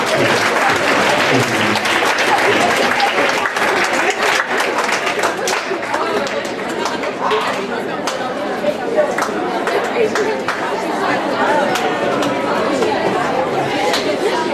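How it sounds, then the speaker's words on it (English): An audience at a middle school assembly applauds while students chatter loudly throughout, the clapping strong at first and then settling into a busy, noisy crowd. "Give a round of applause."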